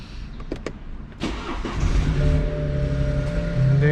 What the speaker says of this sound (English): gotta start my car